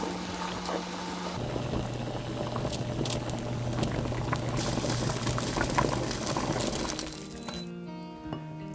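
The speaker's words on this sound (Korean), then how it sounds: "청포묵은 자른 후 끓는 물에 넣고 투명해지도록 데쳐줍니다." Mung bean jelly blanches in a pot of boiling water, steady bubbling in a continuous rolling simmer with faint clinks, close by, fading out at the end.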